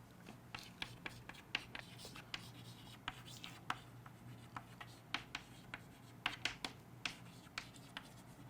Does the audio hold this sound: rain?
no